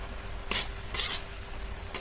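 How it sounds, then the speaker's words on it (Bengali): A spatula scrapes through a raw mango and sugar mixture in a pan, giving three short stirring strokes against a faint background sizzle, close and fairly quiet, with no talking. "হালকা একটু খুন্তি দিয়ে এইভাবে নাড়াচাড়া করবেন।"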